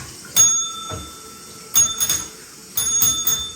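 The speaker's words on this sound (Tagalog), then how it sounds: "That's how you do your bell." A small hand bell rung at home in three separate short bursts, bright and close, each with a brief ringing decay and quiet pauses between.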